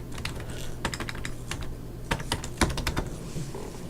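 Fast, uneven keystrokes on a computer keyboard, with a few louder key presses standing out, typed alone without any talking over them.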